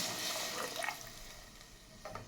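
Water poured into a pot of cooking rice, a faint, brief splashing trickle with a few drips, close by and quiet, without speech.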